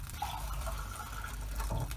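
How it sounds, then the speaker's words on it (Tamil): Water being poured from a cup into a pan on the stove while making a besan flour sausage gravy, a steady, close liquid splashing and filling sound that runs for about two seconds on its own. "தண்ணி சேர்த்துக்கலாம்."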